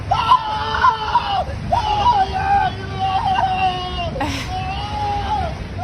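Man screaming in pain as a vehicle runs over his foot during detention, with drawn-out anguished wails and whimpers over a rough, low-quality recording with a murmur of other voices.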